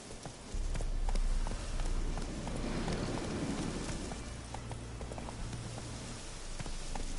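The horse Roach gallops in The Witcher 3, a steady rhythmic clip-clop of hooves starting abruptly and continuing throughout at close range with a faint ambient wash behind it.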